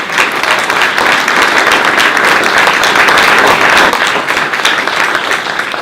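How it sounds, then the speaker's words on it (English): Audience at a municipal water district candidate forum applauds two candidates, a dense, steady round of clapping from a crowd that holds loud and even for several seconds with no talk over it. "I'd also like to ask that you give a big round of applause to these two candidates"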